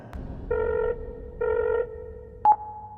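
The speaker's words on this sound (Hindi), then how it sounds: "फिर सुशील अपने शक को परखने के लिए उसी नंबर पर रीडायल करता है।" Telephone redial tones: two evenly spaced stacked electronic beeps, each about half a second, followed by a short click and a brief higher tone, clear and close with a faint background.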